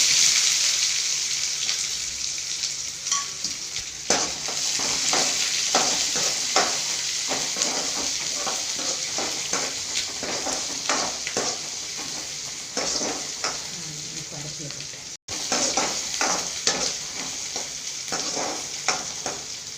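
Dried red chillies and onions frying in a pan at home, a steady loud sizzle with repeated stirring scrapes throughout, briefly cut off near the end before resuming.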